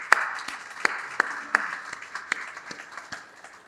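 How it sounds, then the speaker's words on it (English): Sparse, scattered clapping from an audience at a nursing program announcement, a handful of distinct claps in an uneven rhythm that fades toward the end, moderately quiet. "Let's give everybody a round of applause."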